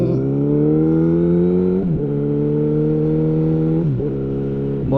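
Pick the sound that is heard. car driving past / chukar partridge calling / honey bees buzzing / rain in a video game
car driving past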